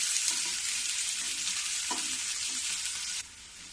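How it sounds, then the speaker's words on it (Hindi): Chopped onion sizzles steadily in a hot pan for an Indian arbi leaf vegetable dish, a loud continuous frying hiss with a brief stir partway through. "अब इसी टाइम में मैं ये जो एक प्याज मैं काट के रखी हूँ ये डाल देती हूँ। इसको भी मैं थोड़ी देर भूंजूंगी।"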